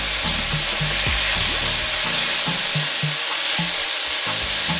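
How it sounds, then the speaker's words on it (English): Saltfish sizzles and fries loudly in a pan, a constant hissing crackle punctuated by soft scraping knocks of stirring. "It's kind of a saute, frying"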